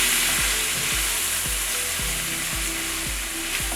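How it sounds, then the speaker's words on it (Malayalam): Whole cloves, cardamom, cinnamon, curry leaves, onion, ginger and garlic fry in hot oil for a Kerala-style beef ularthiyathu, giving a steady loud sizzle. A spoon stirs and scrapes the pan about twice a second. "അതും കൂടി ഈ എണ്ണയ്ക്കകത്ത് കിടന്ന് നല്ലതായിട്ട് മൂക്കണം"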